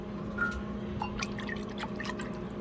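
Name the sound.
pouring liquid air fryer drippings for gravy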